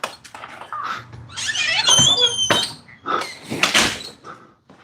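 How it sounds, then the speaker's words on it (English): A door is closed indoors, heard as a run of squeaks, thumps and rattling knocks over a few seconds, close by and fairly loud. "Let me close this door."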